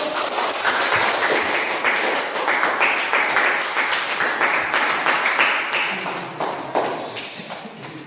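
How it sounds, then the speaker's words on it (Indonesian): An audience claps at a church teaching session in Indonesia, a dense burst of applause that fades gradually over several seconds with no speech over it. "Tepuk tangan dulu."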